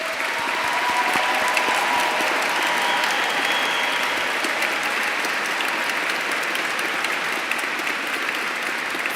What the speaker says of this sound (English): So if you just join me to applaud one another today.